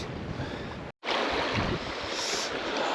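Strong wind roars across the microphone beside a river during trout fishing, a loud continuous rush that cuts out for a split second before resuming at full force.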